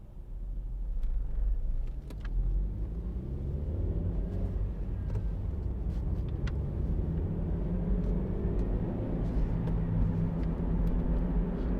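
A 2011 Honda CR-Z 1.5 IMA Sport three-door hybrid driving on the road, a steady low engine and road rumble heard from inside the cabin with a faint whir, no talking.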